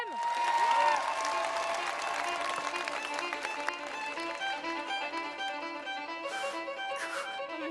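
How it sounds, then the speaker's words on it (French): An audience at a youth pitch session applauds a young speaker called to the stage, with steady clapping spread through a room and a sustained musical tone running underneath. "Vous pouvez applaudir Bersem?"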